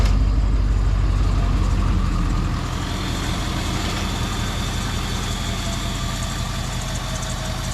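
A diesel vehicle engine runs steadily just after starting, a low, rough, even idle that stays close and loud throughout, with no talking.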